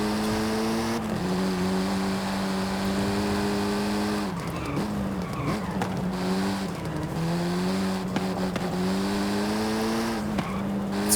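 Volkswagen Golf R 7.5 in Forza Horizon 5, its engine droning loud and steady as it climbs through long gears with brief shift dips, tires squealing under hard driving, no talk.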